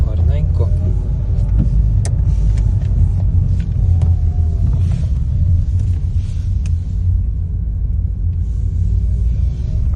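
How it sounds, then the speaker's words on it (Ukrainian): A Mitsubishi Colt engine hums steadily from inside the cabin, a low continuous rumble with smooth changes as the automatic gearbox shifts, occasional light clicks above it. "Їде, перемикає все плавненько."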